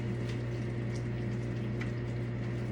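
Ground taco meat sizzles in a pan over medium-high heat, a steady, even hiss of frying with a low hum beneath, continuous and close with no talking.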